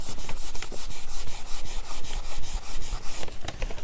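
A rag soaked in alcohol is rubbed back and forth over a chalk-painted kitchen cabinet, producing a loud, rhythmic scrubbing rasp of quick, even strokes close up, with no talking.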